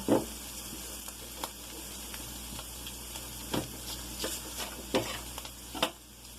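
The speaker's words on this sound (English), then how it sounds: "Keep stirring up the sauce mixture. It will thicken with the cream cheese." A cream cheese sauce mixture is stirred in a pan, with soft bubbling sizzle underneath and repeated scraping strokes of the utensil every second or so, close by and without voices.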